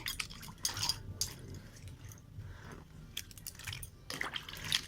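Raw jackfruit pieces are squeezed and rinsed by hand in flour water, giving close, wet squelching and squishing in uneven bursts, with no talking.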